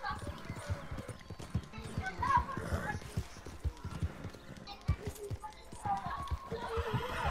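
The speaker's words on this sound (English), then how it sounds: "Hey, they let me get the horse." Horse in Red Dead Redemption 2 galloping with rapid rhythmic hoof clops and a couple of whinnies, game sounds playing throughout.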